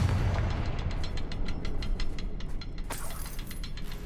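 A Confringo fire spell blast from the Hogwarts Legacy video game, heard as a loud, steady rush of crackling noise with a sharper burst near the end, alone with no talk.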